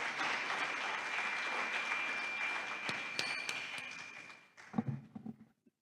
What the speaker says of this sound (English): And I think she needs another round of applause.